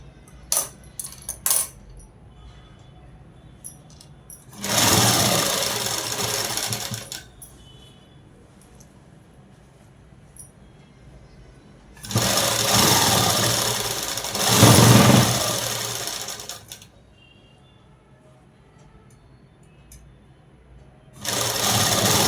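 A sewing machine stitches dress fabric in two loud, sustained runs of rapid whirring needle motor, with quiet gaps between them. A third run starts near the end, and a few faint clicks come at the beginning.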